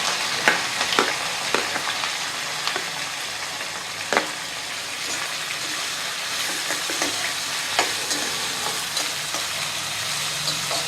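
Sliced onions and curry leaves frying in oil in a pan for a thin mutton curry, a steady close sizzle with scattered crackles and stirring scrapes throughout.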